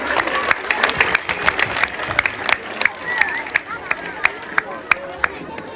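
Audience at a school welcome-day event bursts into steady clapping with scattered cheers and crowd murmur, the applause sustained and fairly close throughout.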